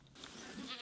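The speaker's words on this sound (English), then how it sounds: "The goats walk daily through these hills." Goats bleating on a hillside farm in Matanzas, Cuba, a short burst of nearby, fairly loud animal calls with no talking.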